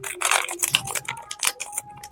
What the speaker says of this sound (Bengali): সব প্যাকেটগুলো এক এক করে আমি কেটে নেব